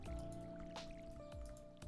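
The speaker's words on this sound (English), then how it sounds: "actually, let's water as we go." Watering can pouring onto freshly planted crops in the video game Stardew Valley, quiet splashing and dribbling water with a steady tone in the background.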